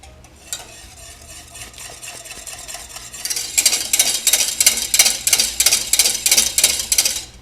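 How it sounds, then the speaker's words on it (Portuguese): A stainless steel whisk beats pastry cream in an aluminium pan, starting as a soft steady scrape and then turning into fast, loud, rhythmic metallic clatter against the pan, close and alone. "eu tô mexendo com fouet só nesse momento"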